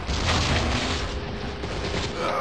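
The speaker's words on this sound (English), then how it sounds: "time for the rocket launcher" A rocket launcher firing and detonating in the video game Malice, heard as a short, loud, rumbling boom with a broad blast of noise that holds steady before easing off, with no speech.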